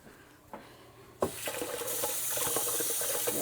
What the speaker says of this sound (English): Wash that straw off.